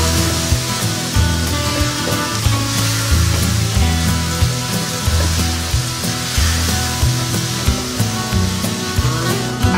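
Garlic and ginger paste with coriander powder and red chili sizzling in a pan for bhindi masala, a steady loud crackling fry with a faint low rhythmic hum underneath, no talking.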